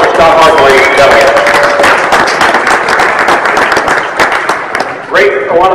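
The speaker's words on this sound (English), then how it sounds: "How about a round of applause for Scott Harden, ladies and gentlemen." Audience applause for Scott Harden at an induction event, a loud, dense spatter of clapping with people talking over it.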